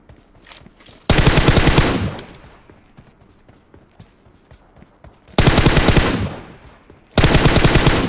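Loud automatic gunfire from PUBG Mobile, three long rapid bursts of shots close by, with quieter footsteps and faint shuffling in the gaps between.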